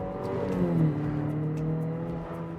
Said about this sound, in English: when you step on it, you can hear that turbo kind of groan